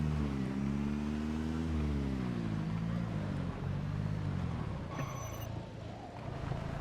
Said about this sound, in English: You sound like a car that I can crash into 100 zombies